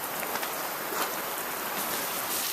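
Water splashes across the back of a car during a wash in a bamboo forest, a broad, hissing spray with a brief surge near the start, continuing steadily alone throughout.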